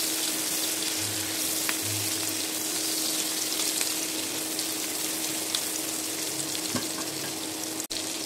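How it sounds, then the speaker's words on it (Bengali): Fish sizzling in hot oil with added onions and chilies for a Pohela Boishakh panta ilish meal, a steady broadband frying hiss throughout with a few faint stirring knocks and a brief clack near the end. "এখন আমি মাছের সাথে কিছু পেঁয়াজ আর মরিচ দিয়ে দিলাম, তাহলে ফ্লেভারটা সুন্দর আসবে আরো।"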